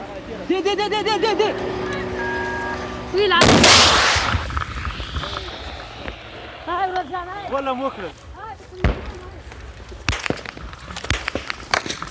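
Bursts of gunfire from police shooting back from moving vehicles in Afghanistan, sharp loud cracks and volleys mixed with shouting voices, vehicle rumble and sirens-like wails in the background.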